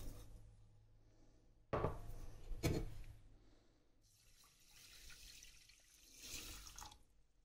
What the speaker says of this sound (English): 4 deciliters of water.